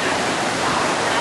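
Rushing high water at a waterfall in Thailand, a loud, steady broadband roar filling the whole clip without pause.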